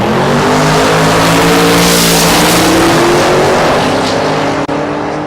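Turbocharged Vega Wagon drag car at a dragstrip during race week, its engine roaring loudly and continuously under throttle with rising revs, close and steady with a brief dip near the end.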